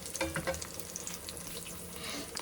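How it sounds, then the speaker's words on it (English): Food sizzling and frying in a pan while making pasta carbonara, a faint, steady crackling hiss with small pops scattered throughout, heard close and alone. "Let them fry."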